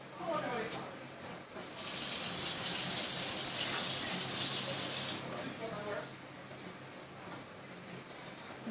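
A small splash of water poured into a glittery slime mixture, a steady watery gush lasting a few seconds with a person speaking before and after it.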